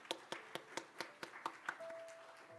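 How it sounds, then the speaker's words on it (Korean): A small group at a Korean church youth worship gathering claps in slow unison, about ten separate beats spaced evenly, then settles into a softer ragged patter near the end. "고생하시고 또 함께 참여하신 모든 분들을 격려하는 마음으로 우리 박수로 한번"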